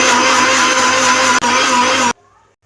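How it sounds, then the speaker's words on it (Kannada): A kitchen mixer grinder blends onion, ginger, garlic, cinnamon and turmeric into a spice paste, a loud steady motor whine with a brief stutter midway, then stops suddenly. "ಈಗ ಮಿಕ್ಸಿಲಿ ರುಬ್ಕೊಳ್ಳಿ"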